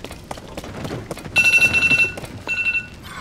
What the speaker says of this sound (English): Whoops, my alarm went off.